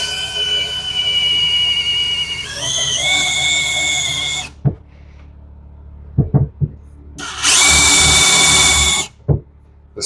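A power drill bores into a kitchen cabinet during a shed-to-house conversion, with a long whining burst that steps up in pitch, then a pause with a few knocks, then a second loud, sustained whir up close.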